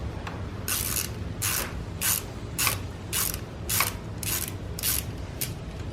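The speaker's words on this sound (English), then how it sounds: "We're going to use this little star socket, 1/4 inch star socket," A 1/4 inch star socket ratchet clicks in short repeated bursts while loosening a bolt during a power steering bracket install, about nine rhythmic ratcheting runs close to the mic with no talking.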